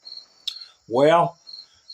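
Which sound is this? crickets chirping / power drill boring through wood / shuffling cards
crickets chirping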